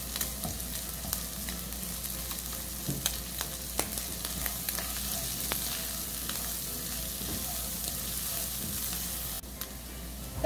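Chopped onion frying in a pan with rendered bacon fat, steady soft sizzling and crackling throughout, with occasional light stirring clicks, close and moderately quiet with no voices.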